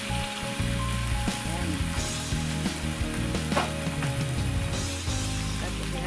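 Chicken breast frying in curry paste while being stirred, a loud, steady sizzle with scraping and clattering from the spoon against the pan and no talking.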